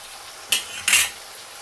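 Stuffed ivy gourd curry frying in a pan, two quick scraping stirs of a utensil against the metal over a faint sizzle, close and without talk.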